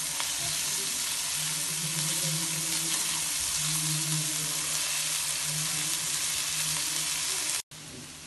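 Onions frying in a pan in oil ahead of adding meat, a steady dense sizzle that runs continuously and close up, cutting out abruptly near the end with no talking.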